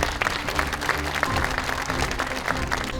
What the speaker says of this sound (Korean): 김종훈 의원님께 감사의 경제에 큰 박수를 한번 부탁을 드리겠습니다